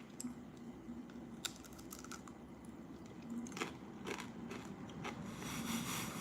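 Crunching bites of a hard, egg-washed shell on cheesy beef empanadas come as several sharp, close cracks and crackles over a quiet background.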